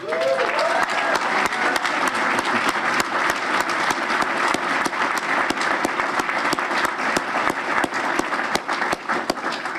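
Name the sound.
audience applause for event organiser Patty McCormick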